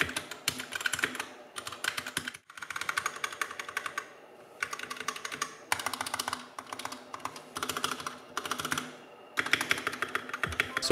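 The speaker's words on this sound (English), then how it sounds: "So as you heard, the keyboard sounds really nice" Rapid typing on a Royal Kludge RK61 mechanical keyboard, mainly plastic, close and crisp, in bursts of clattering keystrokes separated by brief pauses.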